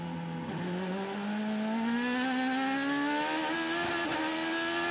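An IndyCar race car accelerates on the track at Barber during the 2010 Grand Prix of Alabama, its engine note climbing steadily and loud through the gears, with a brief shift dip.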